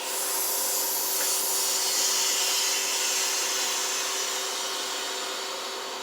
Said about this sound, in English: So I'm going to open the drain valve.